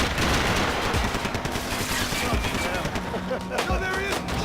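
Gunfire in Max Payne 3 cracks in dense, overlapping bursts through a loud, busy firefight, with a voice speaking over the noise.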